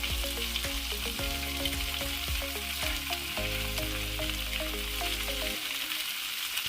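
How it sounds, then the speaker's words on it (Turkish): Bluefish sizzling and frying in a cast iron pan, a dense continuous crackle with scattered spitting pops close at hand, no voices. "İyice kızarana kadar balıklarımızın ilk önce bir yüzünü sonra da diğer yüzünü pişirmeye başlıyoruz."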